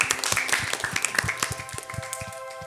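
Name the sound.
children applauding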